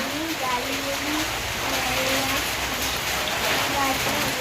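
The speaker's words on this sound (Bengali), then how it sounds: "সকাল সকাল এই যে দেখতে পাচ্ছ বৃষ্টি হচ্ছে আকাশে" Steady morning rain falls outdoors around a house with trees, making a constant, even hiss of drops throughout while someone talks over it.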